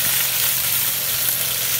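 Steady, close sizzling of chicken frying in a pan for creamy garlic butter chicken, a continuous crackling hiss with no voices.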